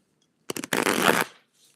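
A deck of tarot cards is riffled in one quick burst of crisp flutters, close and alone in an otherwise quiet room.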